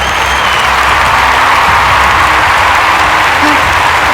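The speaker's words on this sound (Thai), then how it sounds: "ท่านปรบมือต้อนรับ New Imperial Master อิมซึ่งแพท" An audience at a cash award ceremony applauds to welcome an award winner, the continuous crowd clapping loud and washing over a busy hall, with a faint voice and some murmuring mixed in.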